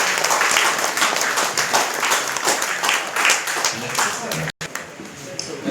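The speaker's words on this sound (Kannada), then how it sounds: "ಜೋರಾಗಿ ಚಪ್ಪಾಳೆ" An audience at a town municipal workers' day ceremony applauding the sanitation workers, a fairly loud wash of many clapping hands that runs steadily with voices mixed in, then drops off abruptly near the end.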